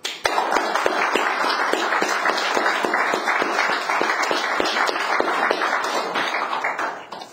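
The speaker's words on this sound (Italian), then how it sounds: "Un applauso per Mauro." A lecture audience gives sustained applause to a speaker, with individual claps clearly audible in a busy, lively patter that fades out at the very end.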